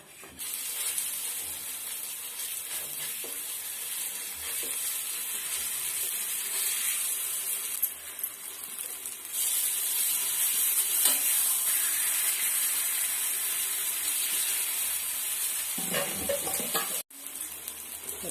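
Oil sizzles loudly and steadily around a karunai kizhangu (elephant yam) adai frying in a pan, a continuous bright hiss close by that swells midway and briefly cuts out near the end, with no voices.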